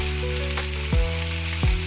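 Palak paneer masala with turmeric powder sautéing in a pan, a steady close sizzle broken by two brief louder stirring scrapes.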